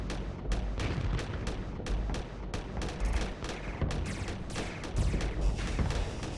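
Ship guns in the space combat game Starsector fire in a rapid, dense volley of sharp repeated shots over deep rumbling booms, continuous and close throughout.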